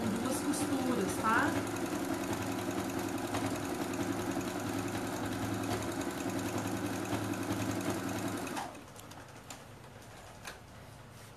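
A sewing machine runs steadily for about eight seconds, stitching a second seam along a doll's garment hem, then stops, leaving a quieter room with faint background noise.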